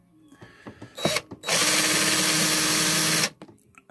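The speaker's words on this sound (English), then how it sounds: "we'll drill a little pilot hole here" A few light clicks and handling noises, then a power drill drills a pilot hole for a thermometer mount, running loudly and steadily for nearly two seconds before cutting off.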